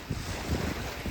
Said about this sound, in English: Wind is coming out of the southeast.